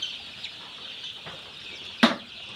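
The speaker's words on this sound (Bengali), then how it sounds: "এখানে 3000 লেয়ার বাচ্চা রয়েছে।" Thousands of High Sex breed layer chicks, about 18 days old, fill a brooding farm with a continuous high-pitched cheeping chorus, broken by a sharp brief rustle or flap near the end.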